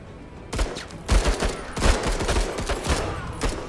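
Bursts of gunfire crackle through a firefight in the video game MENACE, with several loud volleys and rapid shots overlapping for a few seconds.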